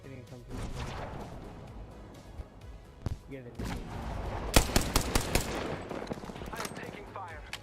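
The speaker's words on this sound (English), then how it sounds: "I'm taking fire." Video game gunfire from a squad battle, sharp bursts of shots crackling in clusters, loudest around the middle, mixed with game sounds and players talking over it.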